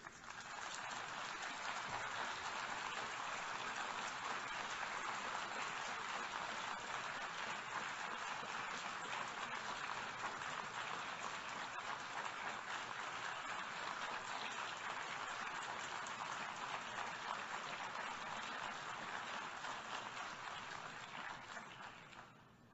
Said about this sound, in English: Wow, sustained applause for the Prime Minister of Israel and the General Assembly.